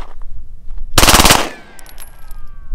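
A full-auto Glock 17 pistol fires one short, loud burst of rapid shots outdoors, followed by a faint ringing tail and quiet background.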